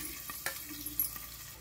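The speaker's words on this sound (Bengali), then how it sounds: "কড়াইতে কিন্তু তেল দিয়ে দিয়েছি, তেল কিন্তু গরম হয়ে গেছে, এবার কিন্তু দিয়ে দেবো এই যে পেঁয়াজ আর কাঁচা লঙ্কা।" Onions and green chillies hit hot oil in a kadai, giving a faint steady sizzle with a few soft stirring clacks, no voices.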